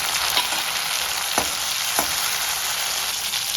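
Chopped tomatoes added to well-softened shallots crackle and sizzle steadily in a hot pan for vatha kuzhambu, with a few sharp scraping knocks of the stirring spoon near the middle.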